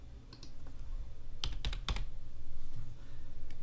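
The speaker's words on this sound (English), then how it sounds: "just pressing the keyboard a few times" A handful of computer keyboard keys are tapped in a quick cluster of sharp clicks, close and clear over a low background hum.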